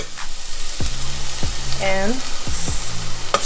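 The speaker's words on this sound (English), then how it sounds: "Put it in the hot oil" Garlic frying in hot oil during Burmese home cooking, a steady broadband sizzle running throughout with a few scraping and clinking utensil sounds over it, and a brief spoken word.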